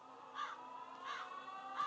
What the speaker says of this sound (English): A zombie with crows?